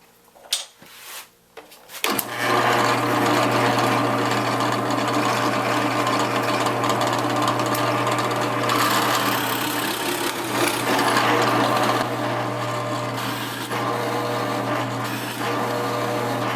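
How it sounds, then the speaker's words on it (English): A steady, loud drill whirs continuously through wood with a Forstner bit, counterboring after a few brief clicks, holding a constant motor drone with no talking. "when you use a Forstner bit, there's a brad point on it"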